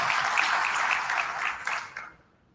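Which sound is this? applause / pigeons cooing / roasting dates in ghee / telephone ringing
applause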